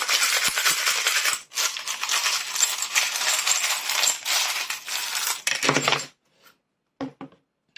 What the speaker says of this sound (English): I'm going to shuffle these. This can be loud